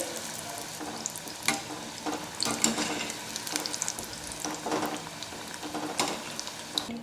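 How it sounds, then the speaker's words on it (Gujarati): Steady crackling sizzle of food deep-frying in hot oil, with occasional louder pops and bursts, close by and continuous with no talking. "તળવા માટે તેલ ગરમ થવા રાખેલું છે ગરમ તેલમાં વડા રાખી દઈએ"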